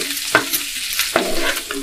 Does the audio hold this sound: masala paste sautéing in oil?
yes